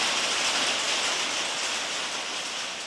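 Heavy rain pours down in a dense, steady hiss, a constant downpour with no gaps or voices.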